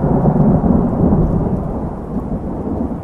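A thunderstorm rumbles with a deep, continuous roll of thunder under a wash of heavy rain, loud and close, with no voices.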